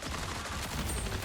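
Rapid bursts of gunfire in the video game Marathon, a dense, rattling stream of shots that sounds somewhat distant and fairly quiet, lasting only about a second.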